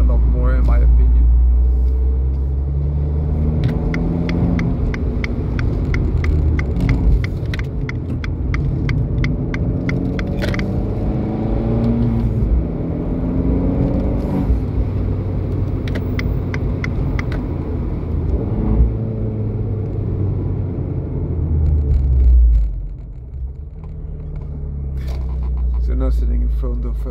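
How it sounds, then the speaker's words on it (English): An Abarth 595C Turismo driving with its fabric roof open, its engine and exhaust giving a steady low burble and rumble throughout, largely under continuous talking from inside the car. "especially when the roof is open, you will enjoy that burbles a lot more"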